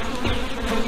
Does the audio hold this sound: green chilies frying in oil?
no